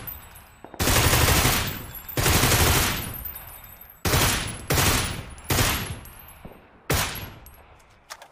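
Bursts of automatic gunfire in PUBG from a crate MG3 battle, several long sustained volleys separated by short pauses, loud and close, with no voices.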